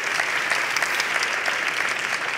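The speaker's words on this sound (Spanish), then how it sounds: "Un aplauso" An audience applauds after a presentation at a talk event, a steady, dense patter of many hands clapping close by that carries evenly through the whole stretch with no voices over it.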